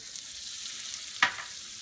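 Butter for a bighorn sheep burger sizzles in a pan with a steady soft hiss, broken by one sharp clink of a utensil.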